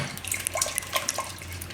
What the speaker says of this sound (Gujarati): થોડુંક પાણી આ રીતે નાખી દેવું